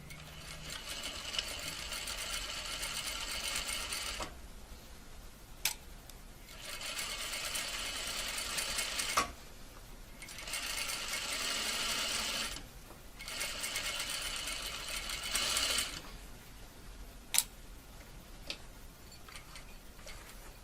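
A sewing machine runs a welt seam in four separate bursts of steady, quiet whirring, with a few sharp clicks between them and no talking.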